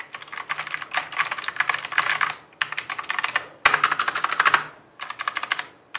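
Fast, crisp clicky typing on a full-size RGB mechanical gaming keyboard with blue switches and an aluminium top, the Cosmic Byte CB-GK-12, loud and close, coming in dense bursts with short pauses between them.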